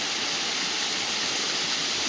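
Water pours down from a waterfall inside a cave in a jungle, a dense continuous roar that is close and loud throughout.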